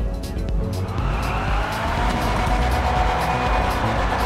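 Car tires squeal and skid continuously during a drift in GTA V Online, a loud, sustained screech over engine noise, with no talk.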